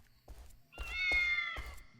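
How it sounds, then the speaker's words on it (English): A cat meows in the video game Shenmue 3, one drawn-out, clear meow in the middle, framed by soft thumping footsteps. "Where is that cat?"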